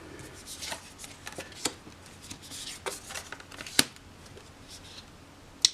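An India tarot deck is shuffled by hand, producing a steady, close riffling and rustling of cards with a few sharper card snaps, heard without any talking.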